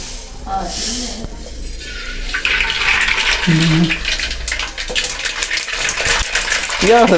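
Mustard seeds splutter and pop in hot coconut oil in a pan, a steady crackling hiss with sharp spits, heard close up.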